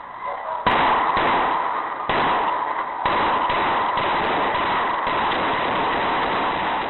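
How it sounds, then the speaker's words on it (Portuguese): Several sharp gunshot cracks ring out in an irregular series during an attack on police, loud and close, each one cutting through a continuous noisy background. "Novos disparos são feitos."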